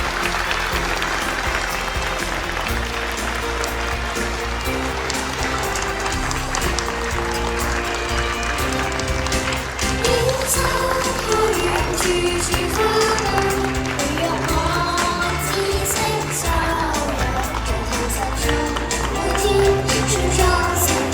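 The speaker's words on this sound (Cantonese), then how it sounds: "請各位以熱烈嘅掌聲歡送咁多位嘉賓先行離場" An audience in a primary school's 20th anniversary ceremony hall claps warmly to see off the guests of honour, a dense, sustained round of applause that carries on throughout.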